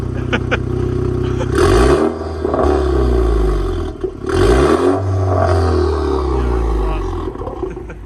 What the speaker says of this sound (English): we're gonna go ahead and give you guys a few revs